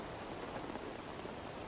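Rain falls on a video game island at night, a steady dense hiss of drops on surfaces, even and constant throughout, fairly soft with no voices.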